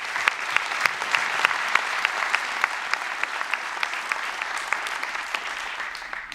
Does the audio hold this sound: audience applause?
yes